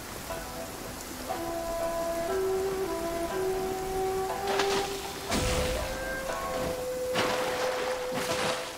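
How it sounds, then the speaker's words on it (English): Steady rainfall in Genshin Impact, a soft even patter of drops on surfaces with faint tonal game chimes over it and a few sharper splashes, no voices. "Rain."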